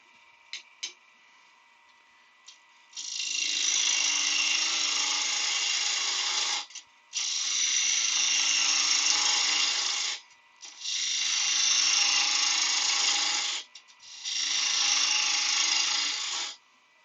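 A wooden box turns on a lathe while its front is faced, giving four long, loud bursts of steady cutting hiss separated by short pauses, with a few light ticks before the first pass.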